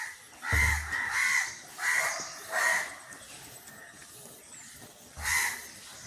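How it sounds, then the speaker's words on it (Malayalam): A crow caws repeatedly on a Sunday morning walk, with several harsh, evenly spaced calls and a final caw after a pause, clear and moderately near. "ഞാൻ വിളിക്കുന്ന കാക്ക."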